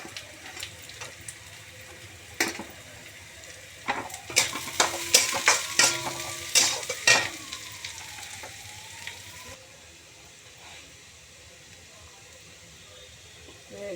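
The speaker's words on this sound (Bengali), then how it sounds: "গাজরটা দিয়ে একটু তো ভাজা ভাজা হবে।" Chopped carrots frying in a pan, with a burst of scraping, clattering stirs in the middle over a soft, steady sizzle. Quieter stretches come before and after the stirring.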